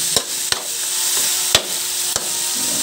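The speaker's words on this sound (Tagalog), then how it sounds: "Gisa lang ng mga 1 minute." Chayote and cabbage sauté in a pan with leftover pork belly, giving a steady, bright sizzle throughout, broken by a few sharp clacks of a utensil scraping and stirring at irregular intervals, close up and with no talking.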